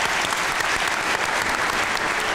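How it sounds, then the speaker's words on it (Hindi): Audience at a Pakistani comedy talk show gives a loud, sustained round of clapping, dense and even from start to finish, filling the room without any speech on top. "तालियां होनी चाहिए मैडम से।"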